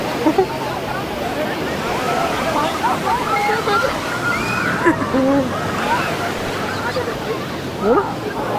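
Sea water washes and churns steadily at Aguada Fort in Goa, a broad surf roar heard close by, while people talk and call out over it throughout.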